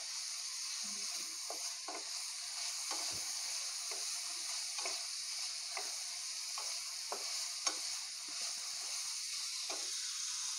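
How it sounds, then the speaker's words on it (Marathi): Mixed vegetables fry over high heat with a faint, constant hiss, while a spoon stirring the pan adds regular soft scrapes and taps roughly every half second. No one speaks. "तर ह्या ठिकाणी मी हाय हीटवरती सर्व भाज्या छान फ्राय करून घेणार आहे."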